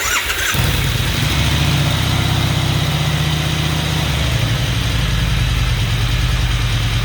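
A 1999 Excelsior-Henderson motorcycle engine cranks and catches, then settles into a loud, steady, close-up idle with an even throbbing pulse.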